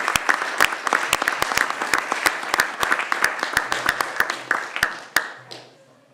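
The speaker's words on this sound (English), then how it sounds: "let's give them a round of applause for an excellent job" Applause at a council meeting in a chamber: a modest crowd claps steadily for several seconds, individual claps distinct and close, then tapers off with a few last claps.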